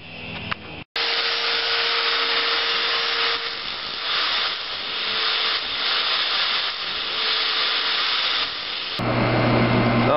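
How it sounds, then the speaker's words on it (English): A power drill with a 5/16-inch bit bores holes for a homemade go-kart build, giving a close, continuous whirring hiss that runs for several seconds after a brief stop near the start. "I have a 5/16 inch bit. Just what I remember. Okay. So I got all the holes drilled."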